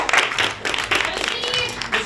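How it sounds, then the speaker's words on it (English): A live crowd at a social venue claps and cheers for a performer, the applause uneven and surging in bursts, mixed with loud voices and chatter over a low hum. "Let's give a round of applause to Miss Julie."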